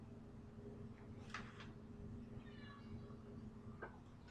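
A house cat upset with its owner gives a couple of short, quiet meows in a kitchen, set against a steady low hum of background noise.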